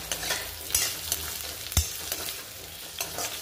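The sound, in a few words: stir-frying potatoes and carrots in hot oil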